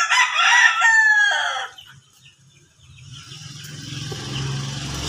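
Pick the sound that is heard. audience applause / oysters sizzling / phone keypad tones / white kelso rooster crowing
white kelso rooster crowing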